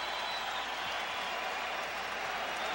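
A sellout arena crowd of 17,000 at a Knicks vs Bulls seventh playoff game roars as a steady, dense wash of cheering and applause that holds at an even level throughout.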